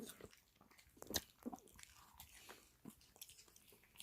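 A dog bites and chews Korean melon (chamoe) as a snack after a hike, soft wet crunches and gnawing in irregular bursts, close but faint, with no talk.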